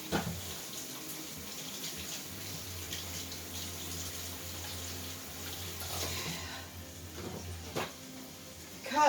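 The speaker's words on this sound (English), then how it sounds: "I'm going to wash my hands for a second." Hands washed under a running kitchen tap, a steady rush of water with a brief splashy change near the end, close and fairly loud.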